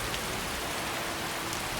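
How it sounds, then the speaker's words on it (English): Rainy weather in the video game Skyrim: a steady, close, hissing downpour of drops pattering on surfaces, continuous and even with no voices over it. "Did someone not tell me that it was the rainy season in Skyrim right now?"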